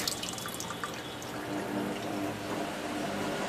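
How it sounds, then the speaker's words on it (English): Water drips and splashes steadily into a 100 liter aquaponics tank, a close, continuous trickling patter with scattered brighter drops and no talking. "Water drops down this 100 liter tank"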